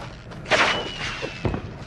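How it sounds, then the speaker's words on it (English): Fireworks going off outdoors: two sharp, booming bursts about a second apart, the first louder and followed by a fading crackle, heard at moderate distance with no talking. "Somebody's setting off fireworks."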